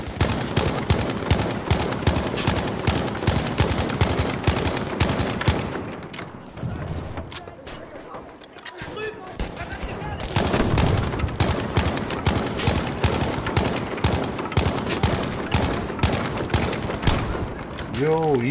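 Dense, near and loud Battlefield V gunfire, with rapid automatic bursts continuing almost without pause, a short lull in the middle, then renewed firing with players' voices faintly underneath.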